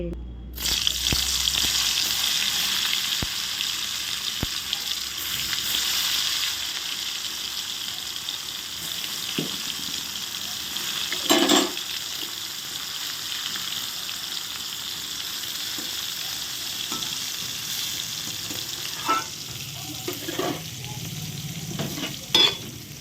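Bitter gourd fries in a wok, giving a steady sizzle that runs throughout, with a few stirring scrapes and clinks from a kitchen where rice is also cooking on the stove.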